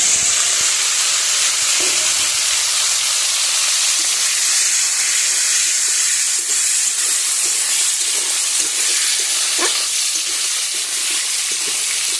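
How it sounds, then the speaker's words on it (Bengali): Dried loitta fish seasoned with salt and turmeric frying in hot oil, giving a loud, steady, dense sizzle that runs unbroken throughout with no voices. "তো এই মাছগুলো এবার একটু লাল লাল করে ভেজে নেব"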